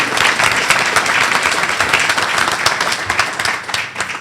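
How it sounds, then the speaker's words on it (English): Audience applause at a leadership awards event, a loud, dense burst of many hands clapping that continues without letup, with a few murmurs underneath. "He deserves a round of applause, and the delegation."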